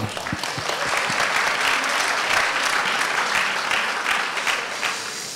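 A conference audience gives sustained applause for a doctor, dense even clapping that fills the room from start to finish.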